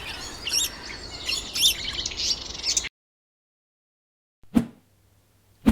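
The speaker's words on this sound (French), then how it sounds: "Oui, c'est un oiseau." Bird chirps and squawks fill the first three seconds as a busy, layered chorus of calls over a steady background. Silence follows, then a brief sharp sound near the end.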